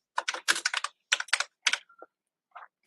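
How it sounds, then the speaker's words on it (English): Quick bursts of typing on a computer keyboard, close and crisp, with clusters of keystrokes separated by short pauses and a few isolated taps toward the end. "Blink, you can't cuddle with my hand when I'm typing"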